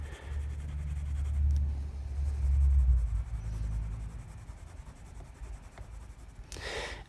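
Fountain pen scratching out small cross-hatches and swirls on Franklin Christoph Firma-Flex notebook paper, with soft, continuous nib strokes over a low rumbling background.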